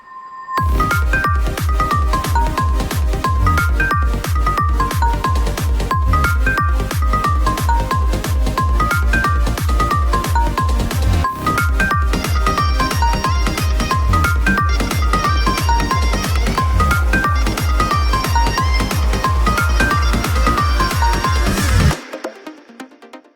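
A psytrance climax section in triplets pounds along with a driving kick and layered, bright synth lines, loud and unbroken for about twenty seconds before cutting off abruptly.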